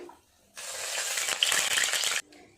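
Palm-fruit fritters sizzle loudly in hot oil for about two seconds, a crackling, spitting hiss that starts abruptly and cuts off just as suddenly.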